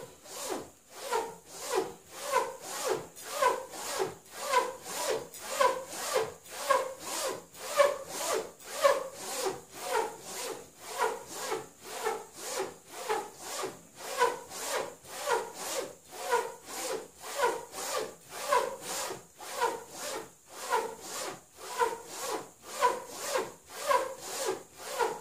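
Straight razor stroked back and forth on the clean fabric side of a strop, a steady run of rhythmic rubbing swipes, close and clear, with no talking.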